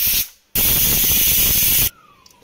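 A pressure cooker that has cooked jackfruit is opened after cooling, and a loud, steady hiss of released steam runs for over a second after a short first burst, then cuts off.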